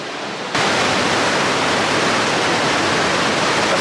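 Thundering roar of Niagara Falls, heard from the tunnels behind the falls. A dense, steady wash of falling water starts abruptly and fills the whole clip, loud and close.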